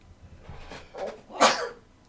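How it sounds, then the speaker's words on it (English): A single close, loud sneeze, with a short breathy wind-up before the sharp burst. "I'm going to sneeze again"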